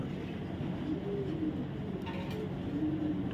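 Pigeons of a show and racer breed, including Black Hungarian, coo softly in a loft, with low repeated warbling calls over a constant background hum.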